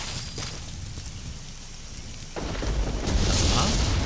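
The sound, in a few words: thunderstorm in video game Metal Gear Solid V: The Phantom Pain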